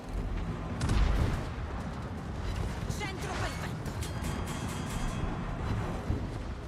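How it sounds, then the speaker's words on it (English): Coastal guns fire in the naval game World of Warships, a string of booming artillery blasts and crashing impacts at close range, with one heavier thud early on, while a voice talks over the gunfire. "Oh look! Coastal guns! They just appeared in front of me."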